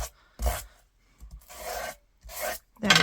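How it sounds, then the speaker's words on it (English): A small sanding disc fixed to an ink dauber rasps over tape in a craft journal, giving four short, gritty scrubbing strokes separated by brief pauses, close and fairly quiet with no talking. "Run it over your tape"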